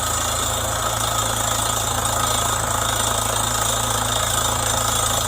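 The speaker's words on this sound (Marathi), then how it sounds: "मला म्हणायचं बोरिंग मशीन आलेली आहे" A borewell boring machine's engine runs during drilling at a house site, a loud, constant, close drone with a steady rough vibration and no break.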